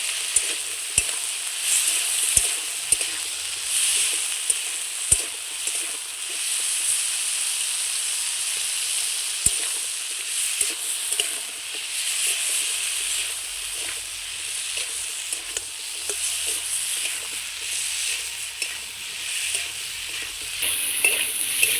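Eggplant and potato sizzle steadily in a pan of oil with salt and turmeric, a loud continuous frying hiss punctuated by sharp spatula clicks and scrapes at irregular intervals.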